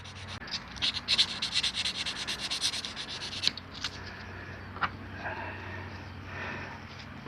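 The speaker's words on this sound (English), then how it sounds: "we need to sand that off and rough up that surface" A golf club head is sanded by hand to rough up its surface, close-up rhythmic scratchy rubbing strokes that repeat steadily, then slow to a few isolated scrapes, with no talking.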